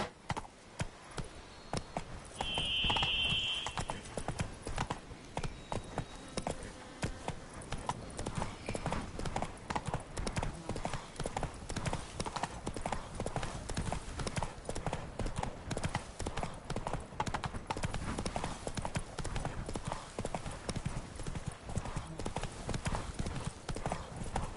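Roach, the horse in The Witcher 3: Wild Hunt, gallops steadily with a rapid, continuous drumming of hooves throughout, fairly loud and close, with a brief higher tone early on.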